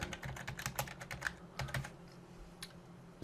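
Quick typing on a computer keyboard, close and fairly quiet, a rapid patter of key clicks with a short pause and a few final taps, no talk.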